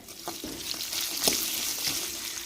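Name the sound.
chopped onions and spices frying in oil in a pan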